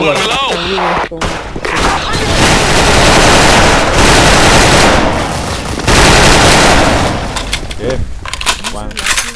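Dense, loud bursts of automatic gunfire in a video game, a nearly continuous close-range barrage with brief pauses, while a player talks over it.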